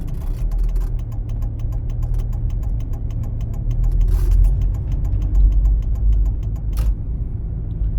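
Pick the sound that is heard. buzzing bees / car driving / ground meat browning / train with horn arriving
car driving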